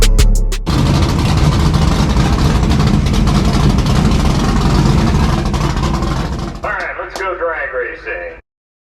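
A Ram 1500 pickup with its muffler deleted rumbles loud and steady for several seconds, with a deep exhaust drone filling the low end. It cuts off near the end, where a voice talks briefly before the sound stops.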